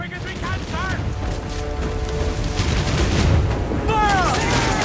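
Naval battle in Assassin's Creed IV: Black Flag, with ship cannons firing in dense, rumbling bursts over constant sea and combat din while crew voices shout and call out over the noise.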